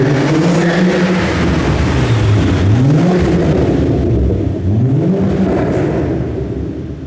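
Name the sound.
Volvo V70R car engine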